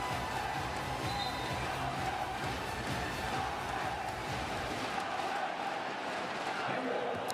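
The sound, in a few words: basketball crowd in the Shenzhen Sports Center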